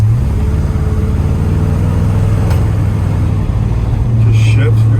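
A 1956 Chevrolet Bel Air car drives off onto the road, its low engine rumble steady and close throughout, growing slightly louder near the end, while people talk over it.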